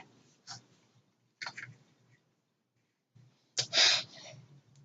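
A person sneezing once, sharply and close, after a couple of quieter breathy bursts, in an otherwise quiet indoor room.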